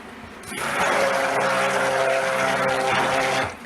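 A steady motorized whir from a stick blender mixing cold process soap batter runs for about three seconds, starting abruptly and cutting off, with a dense buzzing hum.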